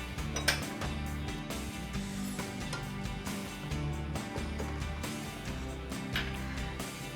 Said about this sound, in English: we make sure that you kind of stir the spinach really well